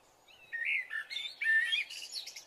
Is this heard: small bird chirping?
yes